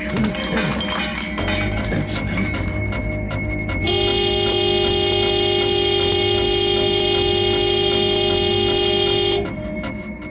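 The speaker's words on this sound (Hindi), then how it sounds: "ऐसे हॉर्न क्यों बजा रहे हो?" A car horn blares in one long, loud, sustained honk for several seconds amid street noise, then cuts off.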